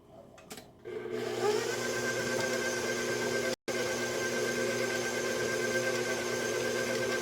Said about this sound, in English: That's why my husband bought me this mixer years and years ago.